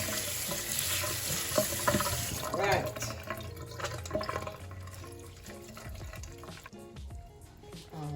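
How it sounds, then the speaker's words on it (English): Cold tap water runs steadily into a sink, splashing over mixed vegetables in a strainer, while a person speaks briefly over it. "And I'm running it under cold water."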